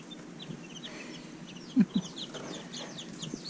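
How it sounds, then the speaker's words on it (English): A baby chick peeps from a brooder during a hatch, giving repeated high, thin chirps close by over a low, steady background hum. "Is that a baby chick?"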